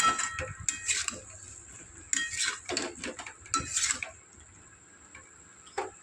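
Small peeled boiled potatoes for aloo dum tumble into a pan of spice masala, giving close clinking and scraping of utensils against metal in several short bursts before quieter stirring.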